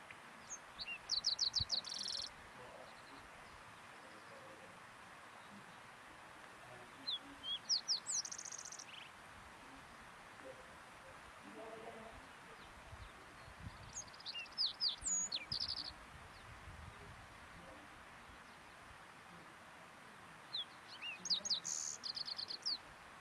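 A green-tailed towhee sings four short, bright phrases at intervals of several seconds, heard fairly distant over a low, steady background hiss.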